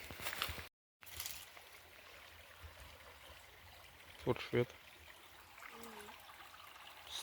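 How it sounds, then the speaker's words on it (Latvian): A small stream runs near a water mill by the Kariekstas river, giving a quiet, steady trickle and burble. A person talks over it, and there are a couple of brief louder knocks. "Strautiņš tak."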